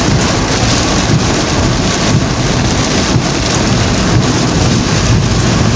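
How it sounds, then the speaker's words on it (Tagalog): Heavy rainstorm with strong wind in Aparri, a dense, loud and constant roar of pouring rain and gusts, with low rumbles that could be distant thunder, and no voices. "Grabe yung ulan sa Apari oh."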